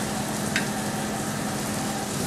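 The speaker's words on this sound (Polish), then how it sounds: "Posmażymy teraz posiekaną cebulę" Chopped onion fries in a pan for a cod roulade, giving a steady, soft, continuous sizzle with no voices.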